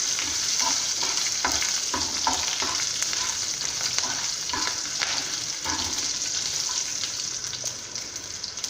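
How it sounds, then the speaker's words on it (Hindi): Steady crackling sizzle of spices frying in hot oil, with intermittent scraping stirs throughout, close and continuous. "अब हम इसको फ्राई कर देंगे।"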